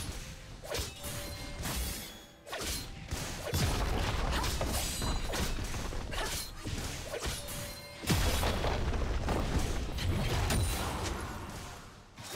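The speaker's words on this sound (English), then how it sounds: "Red team's turret has been destroyed." A turret crumbling apart in League of Legends, with crashing, whooshing impacts and mechanical clatter in bursts, loud bangs around the third and eighth seconds amid continuous game effects, no talk.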